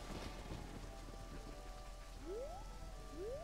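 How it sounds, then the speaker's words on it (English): Steady rain from the video game Zelda: Majora's Mask hisses evenly throughout, with two quick rising chirps from the game heard late over the downpour. "Because it's raining."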